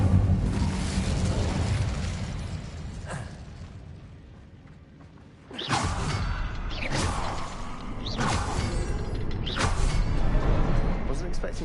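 An Incendio fire spell is cast in the Hogwarts Legacy video game, a sudden loud whooshing burst with crackling bursts following over a steady rumbling game ambience.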